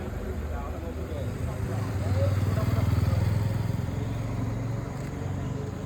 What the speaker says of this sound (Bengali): মোটর সাইকেল আসছে, দেখেছিস?